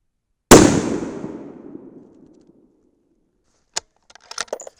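A single sharp, loud .308 Win rifle shot fires a 110gr Hornady Z-Max handload loaded with Reloder 7, its echo decaying over about two seconds before a few small metallic clicks and rattles.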